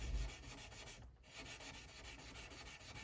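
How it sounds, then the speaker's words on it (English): A Dremel rotary tool with a polishing wheel buffs the frets of a Fender acoustic guitar, giving a steady close rubbing, sanding whir that dips briefly near the middle and then continues alone. "and then use the Dremel in the wheel."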